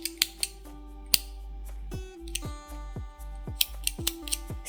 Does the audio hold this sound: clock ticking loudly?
no